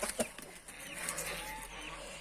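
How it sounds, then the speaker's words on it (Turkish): Soft clucking of chickens in an outdoor farmyard coop, with scattered bird calls and steady background noise around them. "Orada tavuklar var."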